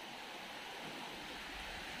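The river at Bangka Bangka Falls runs strong, its rushing water forming a steady, dense, broadband roar that stays constant and close throughout with no voices.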